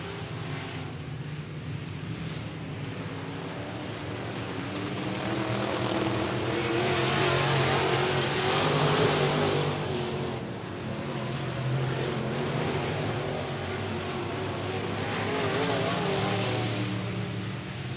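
IMCA modified race cars roar around the I-37 Speedway oval in a main event, a loud, continuous engine drone that swells and fades as the pack passes, with no voices.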